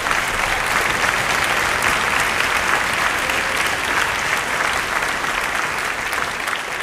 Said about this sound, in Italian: facciamo un applauso a Claudio